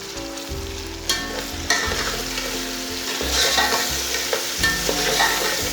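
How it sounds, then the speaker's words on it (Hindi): Tomatoes, green chillies, cinnamon, cloves and cumin frying in hot oil for beef pulao, a loud, close, continuous sizzle with intermittent scrapes and knocks of a stirring spoon. "इसे 2 मिनट तक फ्राई कर लेंगे"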